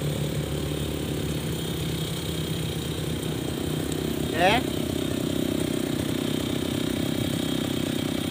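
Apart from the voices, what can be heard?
petrol grass trimmer engine running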